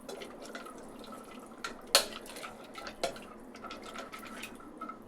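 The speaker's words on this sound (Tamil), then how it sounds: "தண்ணி சேர்த்துக்கலாம்." Water is poured into pasta biryani cooking in a pressure cooker pot, with faint trickling and soft clinks of a utensil against the metal. The sound is quiet and close, with one sharper knock.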